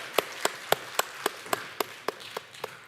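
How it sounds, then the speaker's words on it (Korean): A church congregation at a Korean Sunday worship service in Baltimore claps in a steady, even rhythm, about four crisp claps per second, moderately close over quiet room tone. "하나님께 영광의 박수를 올려드리겠습니다"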